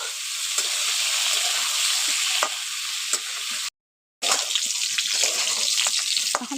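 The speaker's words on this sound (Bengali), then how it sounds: "এখন তেলটা গরম হয়ে গেছে, এঁচড় আর আলুগুলো দিয়ে দিচ্ছি" Young jackfruit and potato pieces fry in hot oil with a strong, bright sizzle and a few stirring knocks. The sound stops in a brief silent gap partway through.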